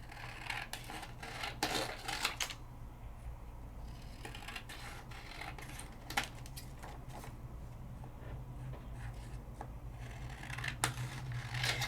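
Scissors trim a stamped paper panel for a card, giving a run of close, dry cuts and rustles over a steady low hum, with no talking.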